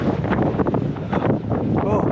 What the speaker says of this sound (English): sorry, very windy now